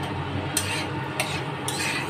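Dried green chillies and black cumin seeds being stirred in hot oil, a steady soft sizzle broken by three scraping strokes of the spoon against the pan, close and alone.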